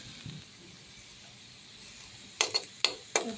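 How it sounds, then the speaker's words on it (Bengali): Potatoes fry in a pan with a soft, low sizzle, then three sharp scraping knocks of a spatula stirring them close up near the end. "আমি আলুগুলো ভেজে নিচ্ছি, সুন্দর করে আলুগুলো ভেজে নিতাম।"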